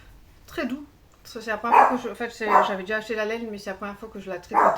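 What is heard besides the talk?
small dog barking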